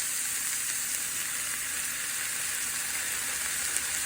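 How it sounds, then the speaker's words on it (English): Spinach cooks down in a hot pan with a steady, close sizzle and frying hiss that continues evenly throughout, with no talking. "I'm going to add the spinach so that it can cook down."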